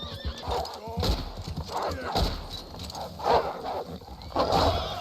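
Horses in Red Dead Redemption 2, with several loud whinnies and neighs over clopping hooves, close and busy, while people talk over it.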